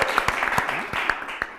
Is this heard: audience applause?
yes